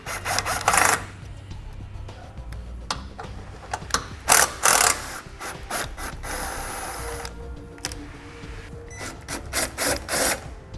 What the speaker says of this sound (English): we're going to remove these 2 bolts, and I'm going to be using a 10mm socket to do so